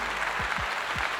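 A brief burst of steady crowd applause, dense and even, with no voices over it.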